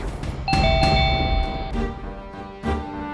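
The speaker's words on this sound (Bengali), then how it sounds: "যেভাবে বেল বাজছে" A doorbell rings indoors in a home, several loud, bright chime tones struck in succession with lingering ringing overtones, then another ring near the end.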